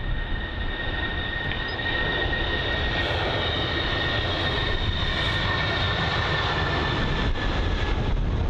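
A British Airways airliner departs London Heathrow in strong, gusty wind, its engines a steady, loud broadband roar mixed with wind rumble, heard from a distance without pause.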